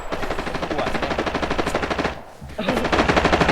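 Rapid automatic gunfire in the Arena Breakout video game, loud and close, with a sustained burst, a short pause near the middle and then a second burst of fire.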